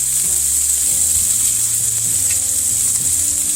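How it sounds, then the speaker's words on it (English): Lamb steak seasoned with rosemary sears in a hot pan with a loud, steady sizzle and crackle, no voices over it, close and continuous throughout. "I'm going to let this get brown though before I add the butter. I'm going to get it good and seared."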